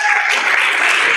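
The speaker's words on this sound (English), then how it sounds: "I don't hear enough applause." Dense, continuous crowd applause from an audience at a Janmashtami celebration at ISKCON Naperville, loud and unbroken throughout.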